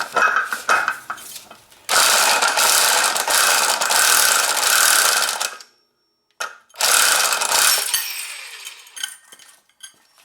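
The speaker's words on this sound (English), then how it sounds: "Grab your little impact." A small impact wrench rattles a nut off the clutch of a Grizzly 700 ATV during clutch service, loud hammering bursts of several seconds broken by a brief pause, close up with no talk.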